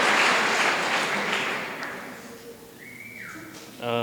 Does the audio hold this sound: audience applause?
yes